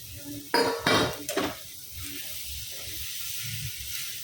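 Green capsicum hits a hot pan with a short burst of sizzling and clattering stirring, three quick loud scrapes of a spoon against the pan, then a low steady hiss of frying with no talking.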